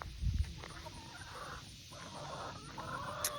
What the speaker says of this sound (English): So we're down to 3 red chickens.